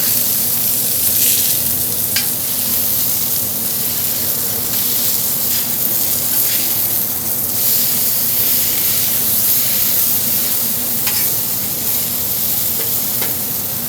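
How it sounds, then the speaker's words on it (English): Mustard-fried burgers and shaved onion sizzle loudly on a hot cooking surface, a dense, continuous close-up hiss and crackle with small spits and pops throughout and no one speaking. "What this is called is a mustard fried burger"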